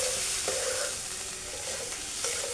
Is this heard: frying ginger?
yes